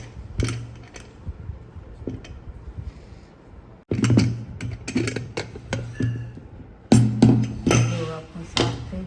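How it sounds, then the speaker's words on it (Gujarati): Pressure cooker lid being opened after cooking a Gujarati Kathiyawadi ridge gourd curry, with a sequence of close metallic clanks, clicks and scraping handling noises in several bursts. "ચાલો હવે આપણે કુકરનું ઢાંકણું ખોલીએ."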